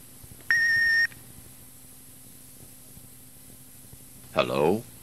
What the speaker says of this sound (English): don't forget the 3-second cueing tone